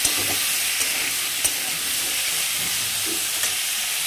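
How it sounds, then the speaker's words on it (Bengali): Potatoes frying in hot oil in a wok-style pan, a steady loud hiss with occasional soft scrapes as they are stirred, close and continuous with no voices. "তো আলুগুলোকে একটু নাড়িয়ে দিই"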